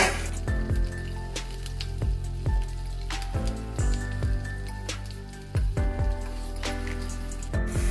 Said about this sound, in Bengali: রসুন লঙ্কা আমার ভাজা হয়ে গিয়েছে